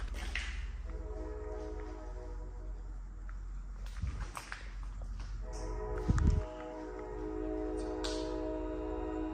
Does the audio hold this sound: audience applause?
no